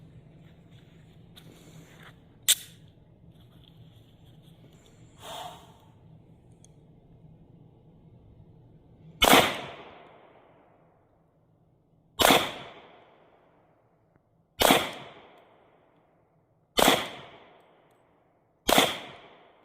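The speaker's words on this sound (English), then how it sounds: "I'm gonna focus and slow fire one more time, 5 rounds at 7 yards." A Taurus TH40 pistol fired slowly at 7 yards, five sharp loud reports evenly spaced a few seconds apart, each with a short decaying echo, preceded by quieter clicks and handling noises.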